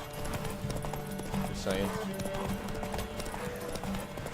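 Horse hooves clip-clop at a steady walking rhythm in the Witcher 3 video game, mixed under game ambience and music while someone speaks briefly over them.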